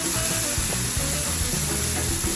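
Beef and chicken sizzle on a flat deli griddle, a steady loud frying hiss broken by scraping and tapping of a spatula, close up with no talking.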